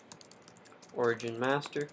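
Computer keyboard typing while entering a git push command: a scatter of light key clicks at the start, then a voice speaking over the last tapping.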